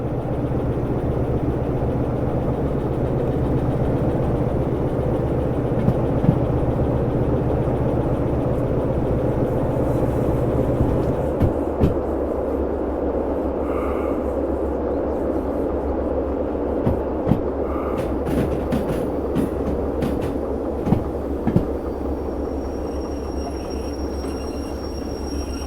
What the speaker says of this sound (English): we have successfully turned around a locomotive